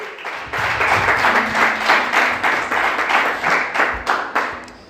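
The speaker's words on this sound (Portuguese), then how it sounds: "Quantos podem aplaudir e exaltar a Deus?" A church congregation claps together in a fast, steady rhythm, loud and close, with soft pulsing surges throughout.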